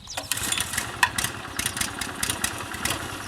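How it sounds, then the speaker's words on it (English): A petrol-powered groomer engine cranks and catches, then runs with a steady, fairly loud, rough mid-pitched chug and irregular pulses, with no voices. "The best thing I can do now is to start it up and show it in operation."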